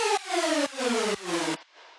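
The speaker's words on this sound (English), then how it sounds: "So without it, it just sounds like this." Detuned saw and square synth notes with no pitch wobble, four sustained chord hits roughly every half second with steady harmonics, ending in a faint noisy tail.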